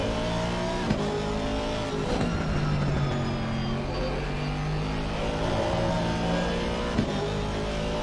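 Race car engines in Assetto Corsa Competizione at Brands Hatch, with GT cars including a BMW and an Aston Martin: a loud, continuous engine drone that holds a steady pitch, with a few faint tire noises and no talk.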